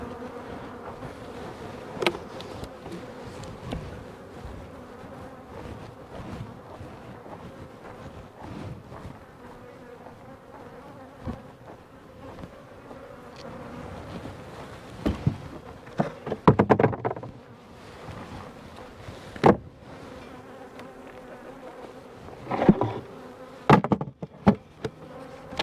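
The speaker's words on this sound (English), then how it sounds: "If I don't get this box out of here, it'll be full of bees again." Bees swarm around a honey box outdoors, a constant faint buzzing hum broken by occasional sharper knocks and bumps of handling the box, with no talking.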